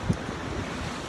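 Steady sea surf and gusting wind on the North Wales coast, a continuous low broadband wash with a brief buffet of wind against the microphone near the start.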